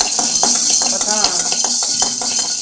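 Black pepper is stirred in a hot pan, with a metal spoon scraping and tapping the pan in a steady rhythm over a constant hissing roast, close and loud.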